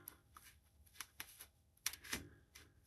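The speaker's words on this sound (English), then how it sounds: "Oh, I have to shuffle this too." A deck of oracle cards shuffled by hand, a run of quiet crisp riffles and flicks in irregular bursts with a louder cluster near the end, close up and with no talk.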